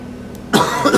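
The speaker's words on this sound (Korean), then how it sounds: "잠깐만 기침 좀 하겠습니다." A man in a church sermon setting lets out a single sharp cough, close and abrupt after a brief quiet moment.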